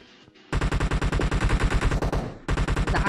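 Rapid automatic gunfire in a PUBG Mobile firefight: a loud, sustained burst of evenly spaced shots lasting about two seconds, a brief pause, then firing resumes at the end.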